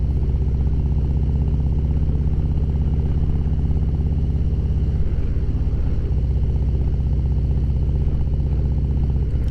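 2018 Harley-Davidson Road Glide Ultra riding on the road, a loud steady engine drone with a brief dip and change in pitch partway through as the bike shifts gear smoothly.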